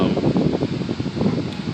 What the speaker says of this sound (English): And today is kind of windy.